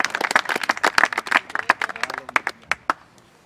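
A congregation at a church wedding ceremony claps in a quick, dense patter of many hands that thins out and fades over a few seconds.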